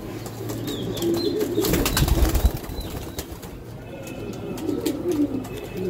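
Pigeons, a pair of high-flying Giribaz racing birds, coo softly and repeatedly at close range, with low murmuring calls and a brief rustle of wings partway through.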